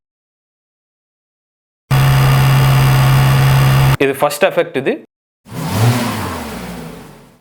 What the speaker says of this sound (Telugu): కార్ ఇంజిన్ సంబంధించిన సౌండ్ ఇది